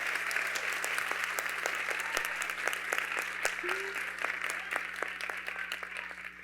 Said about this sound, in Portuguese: Vou pedir mais uma salva de palmas para todas aqui que estão no palco.